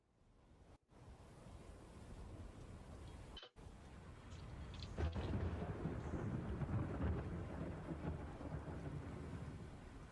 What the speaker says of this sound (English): Oh, a thunderstorm.